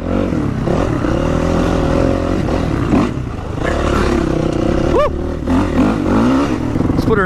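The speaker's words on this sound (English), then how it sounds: "Man, that Lex exhaust sounds so good." Honda CRF450 dirt bike fitted with a Lex exhaust, ridden along an off-road trail, gives a loud, steady engine drone with shifting revs and rattling clatter throughout, joined late by a few brief rising whines.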